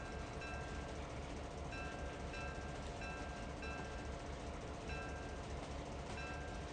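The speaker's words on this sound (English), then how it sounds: "The bell is clipping on my end." The locomotive bell of an EMD SW1 switcher in Train Simulator Classic rings repeatedly with a clipped, distorted edge, its strikes recurring every second or so over a steady, loud rumble of engine and rail noise.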